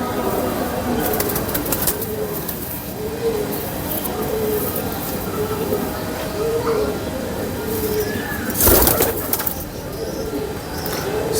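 Pigeons coo in repeated soft rhythmic bursts near a loft, under a busy background with voices and a brief loud clatter midway.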